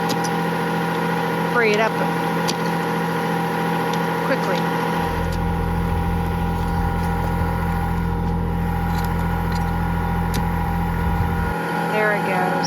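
A tractor engine runs steadily at idle beside livestock fence work in thick clay, a constant mid-pitched drone that carries on beneath a voice as he speaks.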